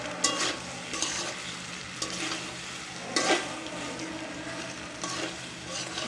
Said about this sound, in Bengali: এখন নেড়ে দেওয়া হচ্ছে।